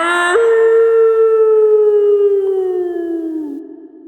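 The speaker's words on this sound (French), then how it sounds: "C'est le chant des loups." Wolves of a pack howl together on a mountaintop at night, one clear, loud, drawn-out note that holds steady for several seconds and then sags lower and fades.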